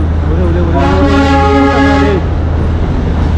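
Darjeeling toy train horn sounds one sustained, loud, multi-tone blast lasting over a second, with road traffic noise underneath and no clear talk.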